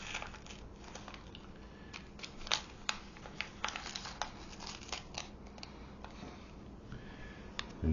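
Scissors snip through a small paper seed packet from a bee pollinator kit, giving a run of crisp close cuts and crinkles with no talk.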